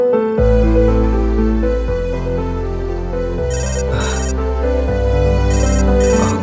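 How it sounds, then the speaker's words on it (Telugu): A mobile phone ringtone plays loud and close, a repeating melodic tune with a few brighter chiming bursts, with no voices over it. "అంకుల్ ఫోన్ చేస్తున్నాడండి."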